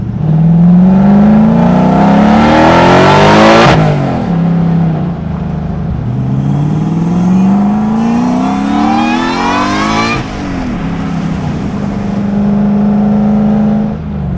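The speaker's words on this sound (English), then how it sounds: "I think if I can get the exhaust not exiting out from underneath the truck, it'll help the supercharger be louder." A supercharged drift truck engine revs loudly and repeatedly, each rise climbing in pitch before dropping back, with a whirring supercharger tone riding over the exhaust roar. No voices are heard.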